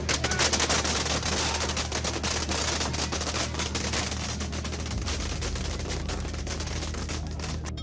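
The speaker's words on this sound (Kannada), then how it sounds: "ಪಟಾಕಿ ಸಿಡಿಸಿ ಸಂಭ್ರಮಿಸಿದ್ರು" Firecrackers burst in a dense, continuous crackling barrage at a political party office celebration in Patna, loud and close with no pause.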